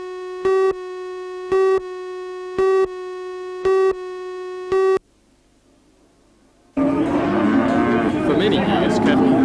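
A loud, close cow moos once with a long, rough bellow, following a run of evenly spaced electronic beeps and a short silence.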